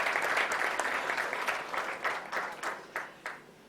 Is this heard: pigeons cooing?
no